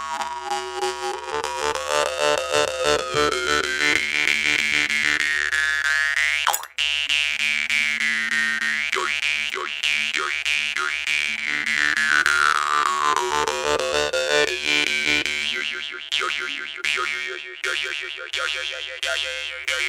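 Yakut khomus jaw harp by Tartakov, a classic Yakut-shaped instrument, twangs continuously with a buzzing drone and sweeping, wah-like overtone melodies, briefly broken by a sharp click partway through, played alone and close.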